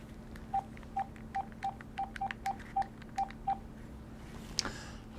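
VTech CS6529-4B cordless handset dialing a number: about a dozen short, evenly spaced DTMF keypad beeps over a faint steady hum, followed by a brief click near the end.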